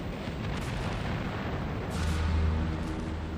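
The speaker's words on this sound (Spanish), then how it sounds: "Se produjo una enorme explosión." Huge explosion aboard the British battleship Hood after a shell from the Bismarck pierces her thin armour at sea in World War II, a loud sustained roaring blast with deep low rumble swelling and rolling on without speech.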